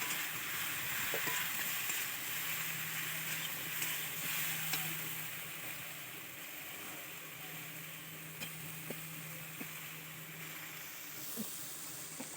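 Spices with coriander powder and ginger paste being sautéed for a drumstick fish curry, a steady close sizzle and fry with scraping stirs and small ticks throughout, no talking.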